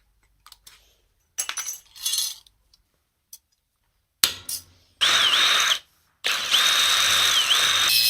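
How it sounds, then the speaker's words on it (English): A power drill bores holes in metal being prepared for welding, with short clattering tool handling first, then loud close bursts of high whining drilling, broken by a brief stop. "drill a couple of holes and file the rest out"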